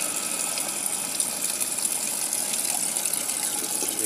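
Water from a supply tap runs in a steady, continuous gush, a broad hiss that holds even and fairly close throughout with no talk over it.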